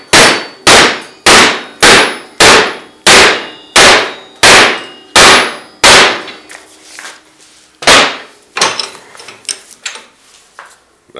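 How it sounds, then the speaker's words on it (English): A big sledgehammer strikes a metal bar held in a vise: about ten loud, evenly spaced ringing clangs, then a few more scattered blows and fading lighter knocks. "I take my big sledgehammer."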